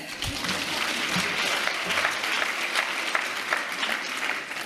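An audience at a women's leadership congress applauds, a dense, even clatter of many hands clapping that holds steady and close for the whole stretch, with no voices over it.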